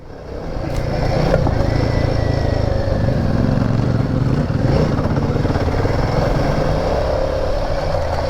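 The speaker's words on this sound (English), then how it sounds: "Clubby hops back on the Cfmoto and takes on that single trail again that we did earlier in the morning" A CFMOTO Ibex 450 MT adventure motorcycle riding a single-track dirt trail, its engine droning loudly and steadily close by, with a rough, busy rumble that barely changes over the ride.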